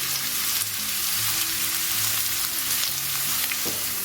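Onions frying until crisp in a pan for chicken biryani give a steady sizzle and crackle close by, with occasional stirring sounds and no talk.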